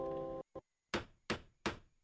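Three sharp, loud hammer strikes spaced evenly about a third of a second apart, used as a sound effect in a car dealership radio advertisement, each blow ringing briefly after a short tonal tone burst at the start.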